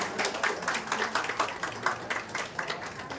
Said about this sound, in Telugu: I request every one to give a big round of applause